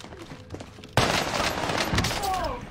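Gunfire in the video game Warzone, a sudden burst of rapid shots that starts loud and keeps up as a dense fusillade for well over a second, with brief talk mixed in.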